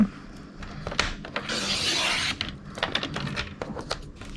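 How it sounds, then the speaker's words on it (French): White paper border being cut off, with scissors rasping and rubbing through paper, one longer continuous cut in the middle and short snips and clicks before and after, close up. "Donc je vais déjà découper le bord blanc."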